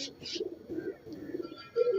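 Kept pigeons coo in low, rolling phrases nearby, with a louder coo at the end and a couple of short higher chirps at the start. No one speaks.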